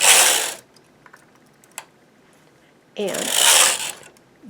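Knitting machine carriage swept across the needle bed for short row decreases, two loud rasping passes of about half a second and a second and a half, separated by quiet with a few faint clicks and a brief spoken word.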